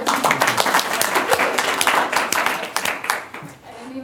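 Audience applause at a university talk, sustained clapping from many hands with a few voices mixed in, dense and steady before tapering off slightly at the end.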